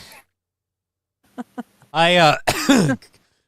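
A man coughs hard in a couple of short bursts after a quiet pause, the fits close to the microphone, with a small throat-clearing sound just before them.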